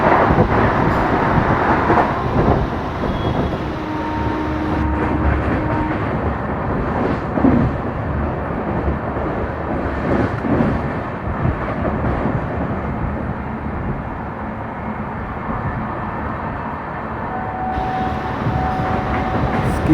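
The Jammu Tawi–Pune Jhelum Express passes at high speed while the listener rides a train running at about 110 km/h near Uruli Kanchan station. A loud, continuous rail rumble and rattle fills the whole stretch.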